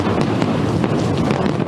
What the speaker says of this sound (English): Massive fireworks display lit up the already dazzling skyline of Hong Kong Saturday night.